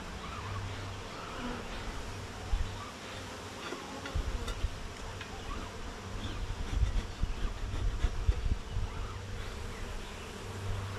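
Honey bees buzzing around an open hive during an inspection, a steady low hum with individual bees flitting close by, fairly quiet.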